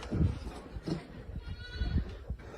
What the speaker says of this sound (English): You hear the desperate cries of a sheep.